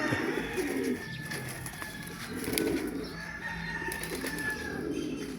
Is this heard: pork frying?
no